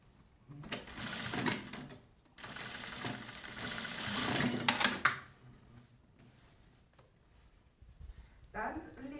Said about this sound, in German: fixiert die Falten, legt sie fest mit der Nähmaschine